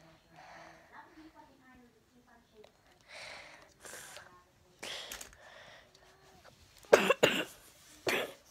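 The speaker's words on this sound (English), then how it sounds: "I got a little cough." Someone coughs indoors: a series of short, dry coughs grows louder toward the end, with a few sharp bursts close to the microphone and some soft, quiet speech earlier.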